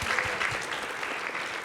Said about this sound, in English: Ladies and gentlemen, a round of applause for the panelists, please.